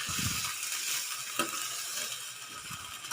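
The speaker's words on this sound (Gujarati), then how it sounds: "આપણે સરસ હલાવી લઈશું" Ground chilli powder and spices are stirred in a hot pan for a short run of dense, bright sizzling, with a few spoon scrapes and soft knocks close by and no voices.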